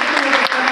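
A loud, dense burst of audience clapping at the 2017 Nelda Recognitions ceremony, heard up close for under a second with a brief dip midway.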